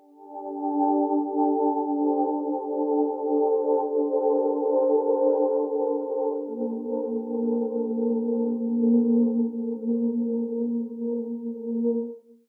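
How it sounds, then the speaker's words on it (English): A synth ambient pad drone with long reverb and a slow arpeggiator, built as an ambient texture: sustained layered tones hold steadily for about twelve seconds, shifting lower partway through, alone with no talking. "you have yourself a pretty passable ambient pad or drone thing"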